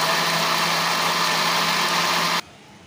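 A blender whirring steadily at close range as it blends a strawberry banana milkshake, a loud continuous motor drone that cuts off abruptly near the end.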